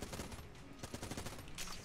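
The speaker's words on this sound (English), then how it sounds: "Robot's left hand is a pretty sweet gun. It's pretty much like Vulcan cannon in a lot of ways." Rapid gunfire from the Robot's Left Hand, a Vulcan-cannon-like weapon in the video game Enter the Gungeon, a continuous stream of fast, dense shots at low volume with no talk over it.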